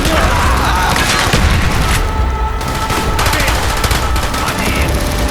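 Dense automatic gunfire and heavy shots rattle without pause in a Call of Duty Black Ops battle mission, loud and close, with soldiers shouting in German beneath the fusillade.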